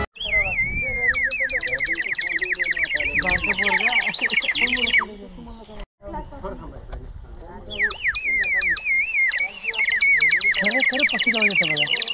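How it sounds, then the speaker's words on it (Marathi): A toy repeatedly emits bright, warbling electronic bird chirps and trills, loud and close, with a brief pause midway before the chirping resumes. "एक पक्ष्यांचा आवाज काढणारं खेळणं घेतलेलं आहे"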